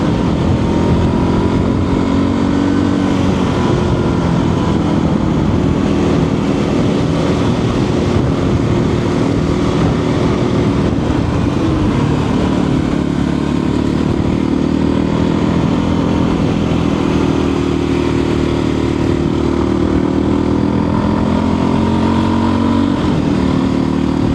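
A KTM 300 Rally dirt bike engine revs and drones steadily while riding on trails in Spain, a continuous loud motor note rising and falling throughout with no talk over it.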